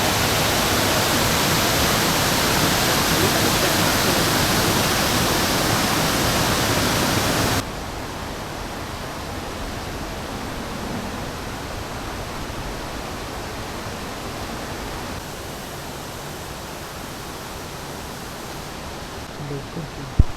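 A steady, roaring rush of a waterfall beside a temple near Rajapur, loud at first and then quieter but continuous, with no voices.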